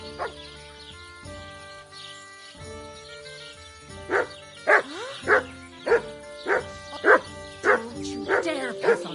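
A dog in the video game Kingdom Come Deliverance 2 barks loudly and repeatedly in a steady rhythm, close by, with a voice scolding it in between.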